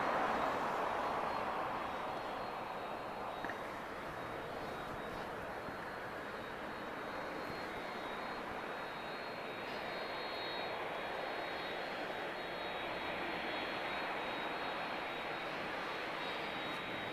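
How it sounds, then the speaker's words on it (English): A jet airliner with CF6 engines takes off at Lisbon Airport, a continuous broad roar heard from a distance that stays steady and fairly faint throughout, with no talking. "I want to capture the sound of a CF6."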